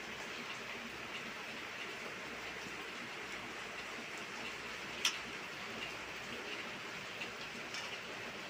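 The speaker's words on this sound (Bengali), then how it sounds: "বাইরে কি বৃষ্টি নেমেছে জোরে।" Heavy rain falls steadily outside, a soft continuous hiss at low level throughout, with one sharp click midway and a faint tick near the end.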